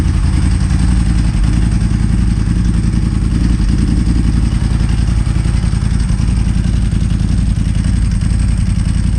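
Ducati 996 motorcycle engine idling up close, a loud, steady rapid pulsing thrum with a rough mechanical clatter throughout.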